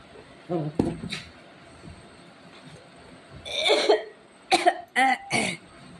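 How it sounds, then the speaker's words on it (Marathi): Several coughs come in scattered bursts, a couple early and a cluster near the end, close and fairly loud over a quiet background. "आई ग खोकला झालाय"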